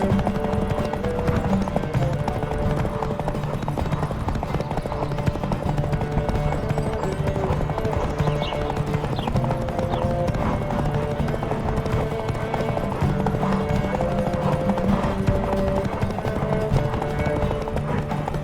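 During a horse race in The Witcher 3 video game, a galloping horse pounds out a fast, continuous clatter of hoofbeats, loud and close, with faint voices now and then in the background.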